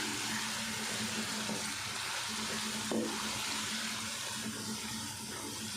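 Freshly ground coriander and cumin sizzle in a hot pan with tomatoes and chili powder, a steady close hiss of frying with faint stirring scrapes throughout.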